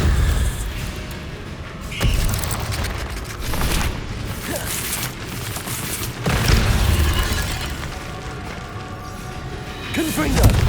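Confringo explosive spells from Hogwarts Legacy land repeatedly as booming thuds, crashes and whooshes over a steady rumbling game soundscape, with voices in the mix.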